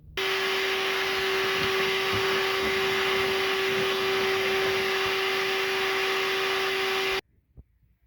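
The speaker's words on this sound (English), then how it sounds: "you turn on the vacuum, and you shake it all up" A shop vacuum motor roars at a steady, loud pitch with a constant whine, running several seconds before cutting off abruptly, followed by faint handling noises.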